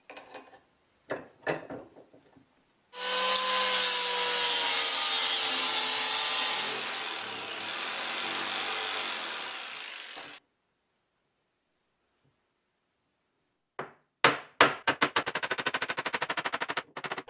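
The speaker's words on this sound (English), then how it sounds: "I'm going to cut a keyway right here" A wooden step pulley for a homemade wood lathe has a keyway cut into it, with a loud steady power-tool whine lasting several seconds, then a long pause, framed by short clicks and rapid rattling bursts at either end.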